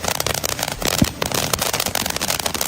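A Yoda toy's fireworks effect gives a dense, continuous crackle of sharp popping bursts, loud and close, with a brief lower whoosh in the middle.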